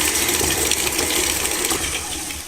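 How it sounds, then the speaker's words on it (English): Electric mixer whisking room-temperature butter and sugar on high speed for muffins, a steady loud whirring drone with faint rattling, continuous and alone without talk. "Whisk the butter and the sugar on a high speed until it's creamy and pale in color"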